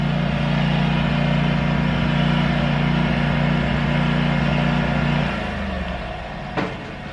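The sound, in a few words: vehicle driving by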